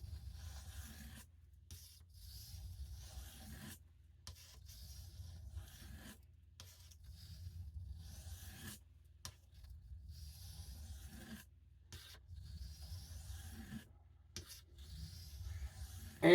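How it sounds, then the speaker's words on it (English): A 440 steel knife blade is worked across a diamond sharpening plate in repeated scraping strokes, each a soft gritty rasp separated by brief pauses, close and quiet. "you sometimes have to work a little extra on a diamond plate to get that burr off"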